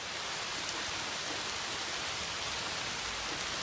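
Steady rain falling outside a van, an even, continuous hiss of drops with no pauses and no talking.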